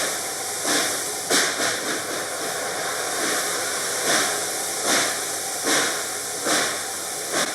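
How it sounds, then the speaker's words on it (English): Reading & Northern 2102 steam locomotive slips its wheels under steam, sending out loud chuffing bursts of exhaust in an irregular rhythm over a constant hiss, heard up close from the cab. "as he opens the throttle, it seems like every time he's putting steam to the cylinders,"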